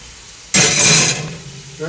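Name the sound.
pieces of cheap steak seared in a hot pot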